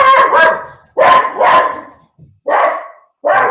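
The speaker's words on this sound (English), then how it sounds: "And of course, the dog is barking." A dog barks loudly and close by, a pair of sharp barks, another pair, then two single barks with short gaps between.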